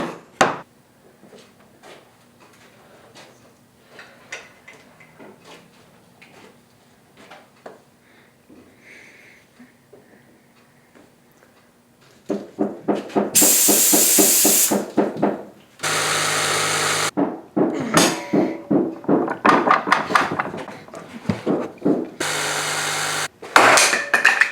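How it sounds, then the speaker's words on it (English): A jigsaw cuts through material during a sprinter van build, loud buzzing bursts coming in several stretches with short pauses between them after a quieter opening of faint handling noises. "Greg just asked me to cut this with a jigsaw, so we're gonna see how this goes."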